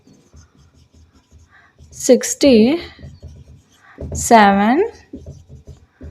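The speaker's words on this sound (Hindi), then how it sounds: "तो यहाँ पे हम लिख सकते हैं" Chalk or marker writing numbers on a board during a maths lesson, with soft rapid scratching strokes throughout and a teacher speaking over them in between.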